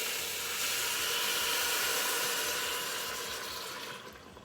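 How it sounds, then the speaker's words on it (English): Water pours steadily into a hot Instant Pot on sauté with a broad hissing rush of steam, close by, gradually fading toward the end. "Go ahead and pour in my water."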